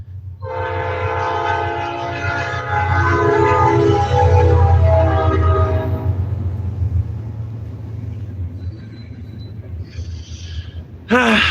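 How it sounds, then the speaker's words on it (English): A train rumbles loudly nearby with a long, blaring horn for several seconds, then the horn stops and the heavy rolling noise continues. "Train coming."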